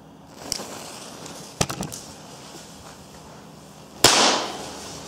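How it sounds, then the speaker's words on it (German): Mini firecrackers lit with a Röder lighter pop outdoors: a small crack near the start, a quick cluster of snaps around the middle, then a louder sharp bang with a hissing fizzle at the end. "Aber wir testen die ganzen Feuerzeuge jetzt einfach mal hier an Mini-Knallern"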